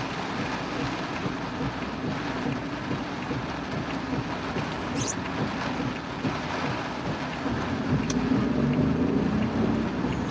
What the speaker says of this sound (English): We've needed this rain, though. This rain is all going to drain into the rice fields.